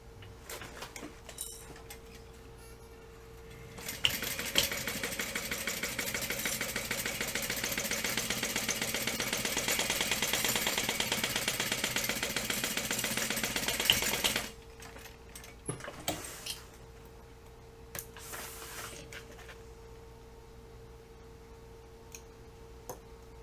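A sewing machine runs a steady, continuous stitch for about ten seconds, sewing across the bottom seam of a fabric project with a half-inch seam allowance. Quieter handling noises come before and after it, and no one speaks.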